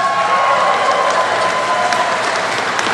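A crowd at a political rally applauds in a steady, even wash of clapping with faint cheering underneath, sustained through the short stretch.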